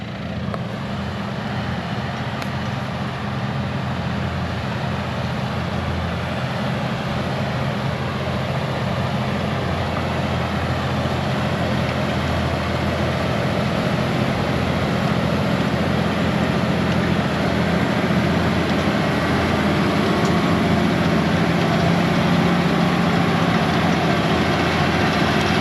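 A tractor engine runs steadily in a field, pulling a subsoiler with a rotary harrow behind while preparing ground for maize sowing: a continuous loud, low drone with no talk over it.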